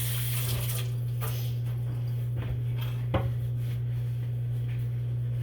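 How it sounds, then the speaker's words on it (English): Hands rinsed under a running kitchen tap while cooking fried chicken, a soft steady water rush with a few sharper splashes and clinks, over a constant low electrical hum. "Rinse my hands."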